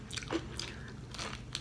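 Someone bites into crunchy, partly hardened strawberry waffles. Two close, crisp crunches are heard with faint chewing between them in an otherwise quiet setting.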